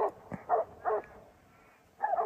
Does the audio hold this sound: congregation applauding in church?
no